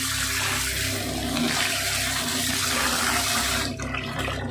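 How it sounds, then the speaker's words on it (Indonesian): Water rushes steadily out of a predator fish aquarium holding arowana, alligator gar and oscar as it is drained, a loud continuous gushing that eases slightly near the end. "Ini buang dulu air."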